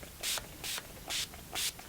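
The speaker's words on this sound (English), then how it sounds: "And then immediately some setting spray," Makeup setting spray mists onto a face in four short, close hissing bursts, evenly spaced, each a quick airy spritz with quiet pauses between.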